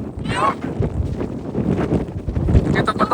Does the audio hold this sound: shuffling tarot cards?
no